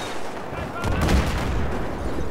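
Gunfire in the video game Battlefield 3 during a building assault, a dense, loud burst of shots and rumbling impacts close by, with a voice speaking briefly over the din.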